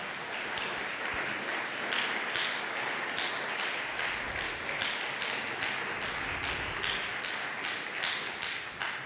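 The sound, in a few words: congregation applauding in church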